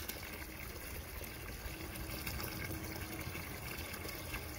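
Water runs from a 100-foot stainless steel garden hose, a steady, loud, continuous rushing spray that stays even throughout with no pauses.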